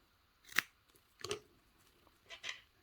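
Scissors cut through a top-stitched fabric strip for a crossbody bottle bag, giving three crisp snips spaced apart, close and fairly quiet with near silence between.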